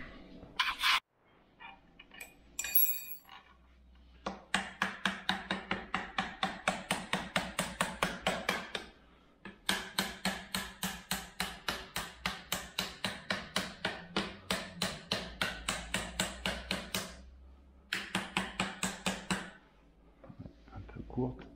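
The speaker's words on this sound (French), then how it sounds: "Donc là, on va prendre un marteau." Hammer knocking the axles out of a Kaabo Mantis electric scooter's front suspension, long runs of rapid, evenly spaced metallic blows in two bursts, close and sharp, with brief talk and clatter at the start.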